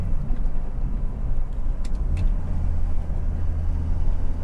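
A Volvo 240 fitted with a T5 manual transmission drives along, with a steady low rumble and drone of engine and drivetrain from inside the cabin and a faint whine.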